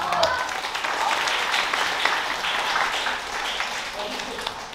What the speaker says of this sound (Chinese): 所以大家给自己拿一个掌声好不好？